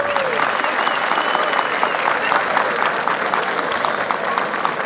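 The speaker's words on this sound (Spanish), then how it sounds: "el aplauso es para Toro Cometa de Rancho Villahermoso y jinete Fabricio" Steady audience applause fills a bull-riding jaripeo arena, a dense continuous wash of clapping from a large crowd, with faint voices mixed in.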